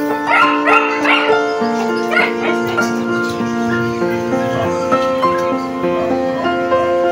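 Several family dogs at dinnertime in the Philippines, served beef, give close yips, short barks and whimpers over a steady busy background, with a voice occasionally heard nearby.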